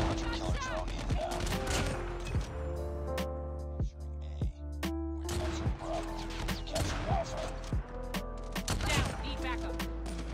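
Rapid video-game gunfire in COD Mobile, with dense bursts of shots and impacts filling the whole stretch, loud and continuous, with occasional voice chat underneath.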